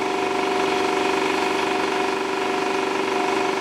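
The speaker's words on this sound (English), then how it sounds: "I think this compressor uses much amps." An old refrigeration compressor running on R12 refrigerant hums steadily at close range, an even, continuous drone with a tonal whine that never pauses.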